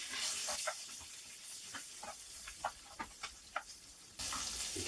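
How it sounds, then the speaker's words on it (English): Sliced onions sizzle as they slide into a warm frying pan for a chorizo and onion Spanish tortilla: a steady close hiss with scattered crackles and pops, swelling into a louder burst of frying near the end. "Do a bit of a sizzle."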